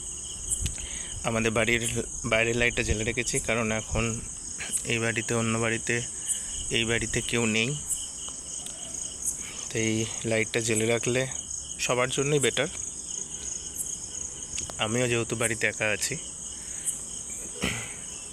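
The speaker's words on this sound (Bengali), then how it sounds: "এখন রাত 11টা বাজে, চারিদিকে শুধু ঝিঝি পোকা ডাকছে" Crickets chirp in a steady, continuous high-pitched drone outside a house at night, sounding clearly throughout while a person talks at length over them.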